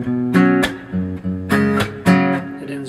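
An acoustic guitar plays the last measure of a song in a live acoustic style, with a few strummed chords and plucked bass notes in a brief rhythmic phrase, close and clear with no voices.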